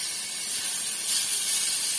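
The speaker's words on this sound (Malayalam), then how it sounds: "ഞാന് ഇതിനകത്തോട്ട് മീൻ ഇട്ട് കൊടുത്തിട്ടുണ്ട്. ഇതിങ്ങനെ പൊരിഞ്ഞ് വരുവാ." Netholi anchovies frying in hot oil in a pan, a steady dense sizzle and hiss that swells slightly midway, close and continuous with no talking.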